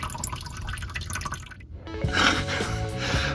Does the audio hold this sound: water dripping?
yes